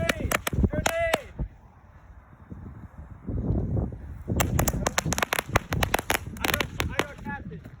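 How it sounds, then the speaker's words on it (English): A grenade goes off in a Vietnam war scene: a cluster of sharp, loud explosive bursts and crackles, preceded and accompanied by people shouting in alarm. "Grenade! Grenade!"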